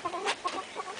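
White Silkie chickens clucking in a backyard flock, a few short soft clucks in quick succession, close by, with no talking.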